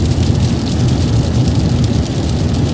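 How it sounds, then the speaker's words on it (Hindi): Heavy storm rain pours steadily and loudly on a moving car on a road trip near Madina, a dense continuous hiss and patter with road rumble underneath and no talk. "बारिश हो रही है"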